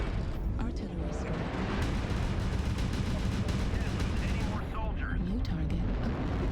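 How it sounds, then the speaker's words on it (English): Artillery strike in the MechWarrior video game, a dense continuous rumble of booming impacts and crackling blasts that fills the whole stretch at steady loudness. "Artillery strike."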